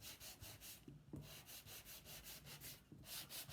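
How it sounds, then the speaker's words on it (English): Sandpaper rubbing back and forth over a painted wooden board with letters, a steady series of close, even scratchy strokes with a few light knocks. "I'm just going to take the sandpaper and I'm going to sand over the letters now just to break that seal on the top of the board"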